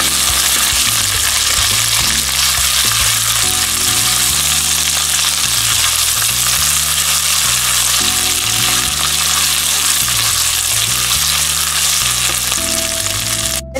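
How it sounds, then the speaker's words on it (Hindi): Onions browning with ginger garlic paste sizzle and fry loudly in a pan, a dense continuous crackle close up, with a steady tonal hum underneath and no talk. "अब मैं इसमें जिंजर गार्लिक पेस्ट डालूंगी 1 टेबलस्पून। इसको अच्छी तरह से सॉटे कर लेंगे।"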